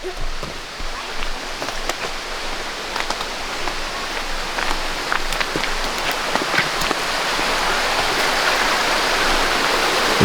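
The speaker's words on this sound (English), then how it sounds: "There's an awesome little creek down there." Small creek flowing near a campsite, a steady close rushing and splashing of water that holds an even, full hiss throughout and swells slightly toward the end, with no voices present.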